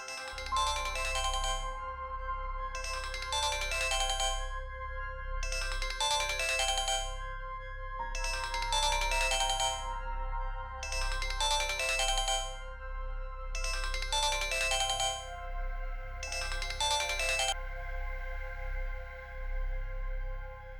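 A phone ringtone plays in seven evenly spaced melodic bursts over a steady low background hum, loud and close, with no talking.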